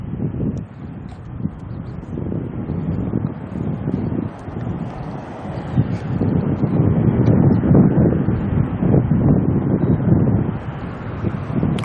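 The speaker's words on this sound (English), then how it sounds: "Oh, come on, wind, settle down." Strong wind at Auckland Airport roars across the microphone as a loud, low, continuous rumble that swells and buffets, growing stronger toward the end, with no voices heard.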